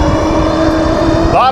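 A vehicle engine revs hard through a top speed pull, a loud, close, rising drone that climbs steadily in pitch, with a person talking over it.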